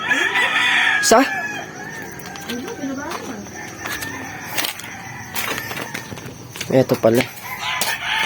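A large oversize rooster at a Philippine poultry sale crows and clucks intermittently near the microphone, short calls scattered among people talking, with hoof-like clopping in the background.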